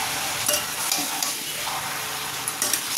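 Mutton kosha stir-fries in a pan in a home kitchen, a steady bright sizzle with occasional scraping stirs, close and continuous throughout.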